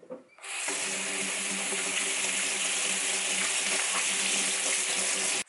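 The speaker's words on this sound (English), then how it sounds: "wash your hands" Tap water runs steadily into a sink while hands are washed, a continuous close splashing gush that starts abruptly after a brief quiet moment and stops at the end.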